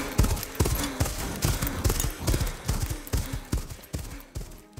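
A donkey runs off at full speed, its hoofbeats clopping in a quick, uneven series of sharp thuds, fairly loud and close, with no talk over them.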